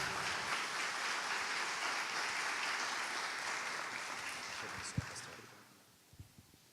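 A church congregation applauds steadily for about five seconds, a dense wash of clapping that fades away, leaving a few scattered claps at the end.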